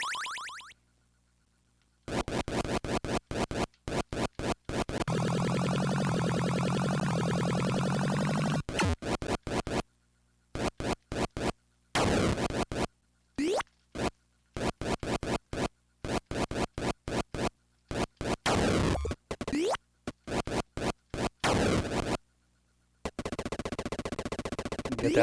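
Williams Joust arcade game on a repaired original board set with a linear power supply, playing gameplay sounds: bursts of electronic chirps, flaps and synthetic effects, chopped by short silences and loud, with no talk.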